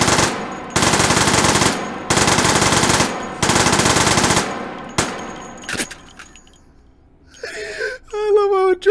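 Rapid automatic fire from a cursed gun with a 69-round drum in the H3VR game, four long loud bursts separated by short pauses, then a few stray shots and rattles as the fire dies away, with a brief tonal jingle at the end.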